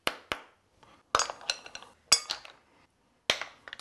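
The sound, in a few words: mussels clinking as they are put in a salad bowl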